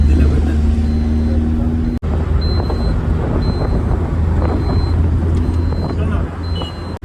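A dairy vehicle driving on a road, heard from inside as a steady low engine drone with road rumble, a brief cut near two seconds, and people talking over it.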